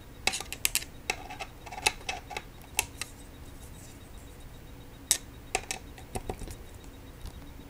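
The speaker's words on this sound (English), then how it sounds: "then you can tighten the seat post bolt right here with an Allen wrench" Allen wrench tightening a seat post bolt on a road bicycle, heard as a string of sharp, close metallic clicks and ticks in irregular bursts with quiet gaps between them.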